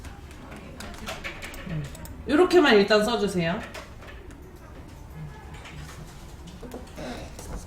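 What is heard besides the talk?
small bird chirping nearby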